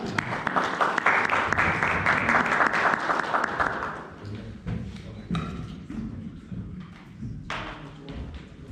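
A small meeting audience claps for about four seconds, loud and close, then the clapping fades into scattered taps, thumps and room movement with faint voices in the background.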